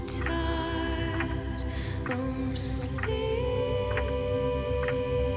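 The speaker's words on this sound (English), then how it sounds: "that clock sound effect is really cool" A clock ticking sound effect runs through a RWBY Volume 9 soundtrack piece, with sharp, steady ticks about once a second over sustained, dense music.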